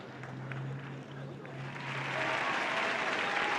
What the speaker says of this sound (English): let's have a round of applause for young Sergio Halls